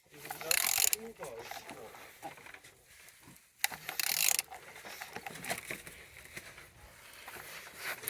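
Engine AM322 (M9R742) is turned over by hand with a ratchet, giving bursts of clicking and mechanical grinding with gaps between strokes, fairly quiet and close.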